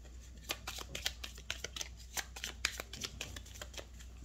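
Tarot cards are shuffled in a quiet room, giving soft, rapid riffling and flicking bursts in an uneven rhythm, close and fairly faint, with no talking.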